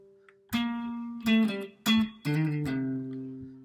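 A guitar plays the two riffs of a song together, close and clear, with sharply plucked notes in short bursts and sustained tones ringing between them, no talking.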